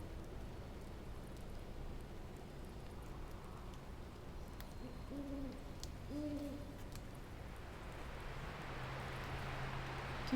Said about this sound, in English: I'm listening to owls in the woods.